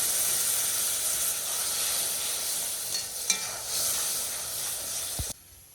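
Spiced masala sizzles loudly in a pan right after water is poured in, a steady bright hiss of steam and frying with a spoon stirring briefly, ending with a clunk before the sizzle cuts off.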